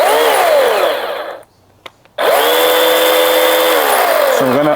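Ryobi 18V 12-inch battery chainsaw revving loudly up close, a high whining motor that drops out for under a second with a couple of clicks, then spins straight back up to a steady, sustained whine.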